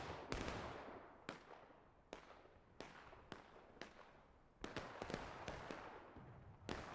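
Musket shots in War of Rights ring out one after another during a Civil War battle at Crecy's Cornfield. The sharp, separate cracks come at an irregular pace, and each one fades into a short echoing tail.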